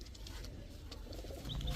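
Giribaz high-flyer pigeons coo softly and low, a faint, continuous murmuring close by in a quiet setting.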